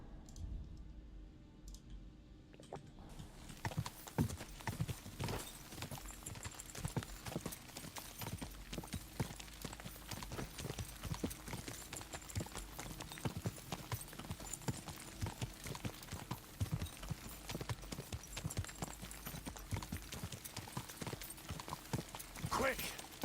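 Horse hooves clip-clop steadily and close by in the medieval game Kingdom Come: Deliverance II, a brisk stream of hoofbeats over constant ambient game noise.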